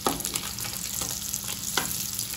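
Paneer pieces frying in a pan, a dense crackling sizzle throughout with a few sharp scraping taps as pieces are flipped one at a time, close and steady.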